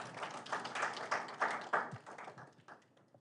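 At a media symposium in a hotel hall, a small audience claps for the speaker Nova: faint, uneven clapping with a few sharper hits that tapers off into sparse claps.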